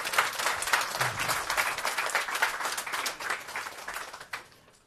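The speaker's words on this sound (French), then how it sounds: "Merci de les applaudir." Audience applause at a public discussion event as speakers walk on stage, a dense, even wash of clapping that holds steady for several seconds and then fades out.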